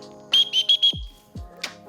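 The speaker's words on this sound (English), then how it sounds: "It's got a whistle. You can get a rescue if you need to." A rescue whistle built into a camera backpack is blown in four quick, shrill blasts close to the mic, followed by a brief fainter toot.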